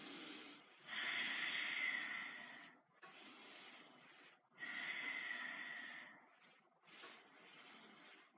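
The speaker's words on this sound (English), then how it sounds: "Nice long deep breath, just breathe in nice and deep" Deep, slow breathing during a yoga class: two long airy inhales and exhales in a steady cycle, close and breathy with a soft hiss and no talk.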